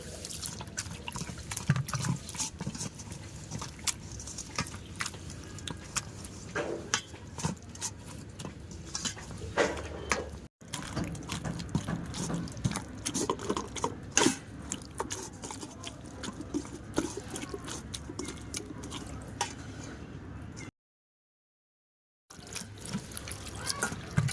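Raw mango pulp is squeezed by hand in water, producing soft, continuous wet squelching and trickling with scattered small splashes. It is fairly quiet, with a brief silent gap near the end.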